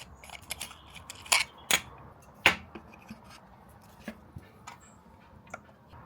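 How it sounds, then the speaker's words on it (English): A floaty stick screws onto a Telesin dome port for a DJI Osmo Action 5 Pro with quiet plastic clicks and ticks, a few sharper snaps standing out among faint scraping, close and sparse. "And then that just screws into there like so."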